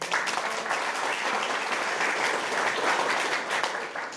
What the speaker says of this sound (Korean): 한 분 한 분 소개해 드릴 때마다 큰 박수 부탁드립니다